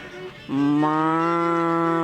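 A person imitates a sad cow with a long, drawn-out low moo that holds steady for over a second after a brief lead-in.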